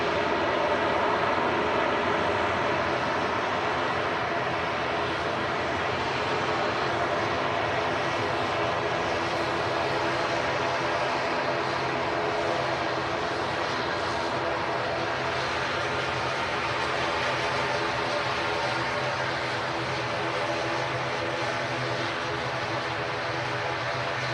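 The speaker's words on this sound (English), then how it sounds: "One of the smallest airliners you'll see." A small airliner takes off at Manchester Airport, its engines giving a loud, steady roar that holds alone for the whole stretch.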